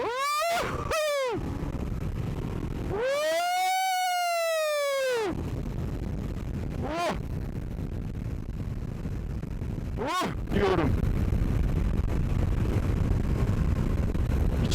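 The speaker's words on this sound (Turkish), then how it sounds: "Bak dördüncü vitesteyim. Bak şimdi sana gücü şöyle göstereyim." A Yamaha MT-09 Tracer (Tracer 900) motorcycle pulling hard in fourth gear, its engine whine sweeping up in pitch in several bursts, one long rising surge, over a constant roar of wind buffeting the microphone.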